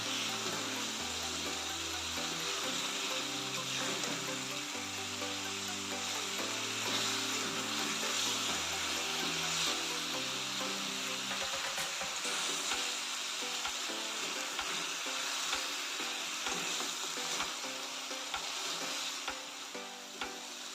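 Fried fish pieces sizzling in a pan while being stirred: a continuous loud frying hiss with occasional scraping clicks, over a low steady tonal hum.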